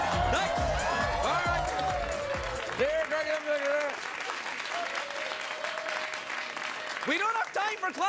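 Studio audience clapping steadily through a late-night talk show taping, with people talking and laughing over the applause.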